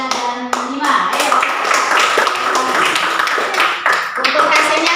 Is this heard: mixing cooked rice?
no